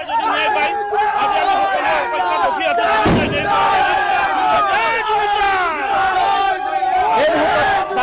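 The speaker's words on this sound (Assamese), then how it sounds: "আপুনি শুনিবলৈ পাব ভাৰত মাতা কি জয় বন্দে মাতৰম ধ্বনি সকলোৱে দিছে" A large crowd celebrating India's T20 World Cup final win over New Zealand chants and cheers loudly and continuously, a dense wall of massed voices with shouted slogans rising over the din and one sharp bang partway through.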